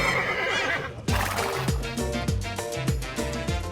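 Horses at a horse racing track: a loud whinny rings out, then a quick run of deep hoofbeat thuds follows in a steady galloping rhythm, close and full against a busy background wash.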